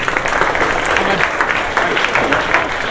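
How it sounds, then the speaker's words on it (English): Loud, steady applause and crowd noise from an audience at a junior hackathon show-and-tell in Manchester, continuous clapping throughout. "Give a round of applause for the Dancing Squirrels."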